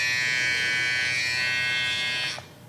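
A Stylecraft Rebel hair trimmer runs with a steady, close electric buzz for a couple of seconds, then cuts off abruptly near the end, with no talk.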